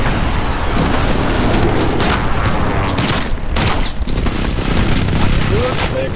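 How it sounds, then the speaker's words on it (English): Enemy precision airstrike explosions in Call of Duty: Modern Warfare, a dense run of loud booms and blasts rolling continuously with sharp cracks, while players talk over the barrage. "Enemy precision airstrike."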